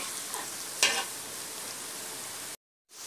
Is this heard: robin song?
no